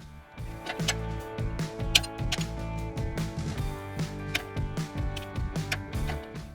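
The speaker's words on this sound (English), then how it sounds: "So we'll grab a pair of pliers, get that off." Needle-nose pliers pop an E-clip off a rear brake pin on a third-generation Toyota 4Runner. The sound is a close series of small metallic clicks, taps and scrapes in an uneven rhythm against quiet background.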